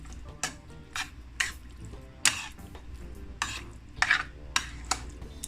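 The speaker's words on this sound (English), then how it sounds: "You give it this a little mix." Chicken and vegetable stir fry being stirred in a pan, with a series of distinct scraping strokes of a utensil across the metal at an irregular rhythm, close and fairly quiet over a low background hum.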